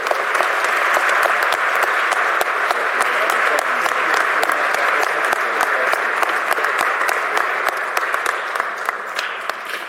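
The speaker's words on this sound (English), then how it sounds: "How about a big round of applause for Lorin Miller?" A hall of fame induction audience claps steadily in sustained, dense applause filling the room, with no break across the span.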